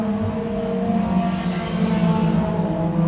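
Thundercar race cars at Can Am Speedway, a pack of engines droning steadily at high revs from mid-distance as they run through the turns, a continuous loud roar with layered engine tones.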